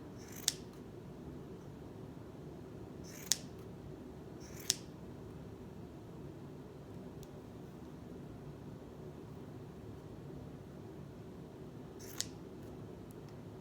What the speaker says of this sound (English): I just sort of cut the edges